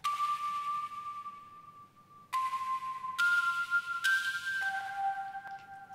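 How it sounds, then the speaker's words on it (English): A soft, airy synthesizer pad made with Massive plays sustained tones that step down in pitch, with a few swells that come back in, quiet and alone with no voices. "Then this is sort of followed with a sort of airy sound from Massive"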